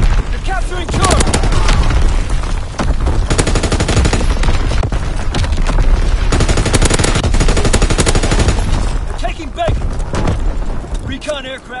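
Mortar strikes and gunfire in a PS4 war game: dense, loud sustained automatic fire and booming explosions over about twelve seconds, with radio-style voice callouts heard through the din.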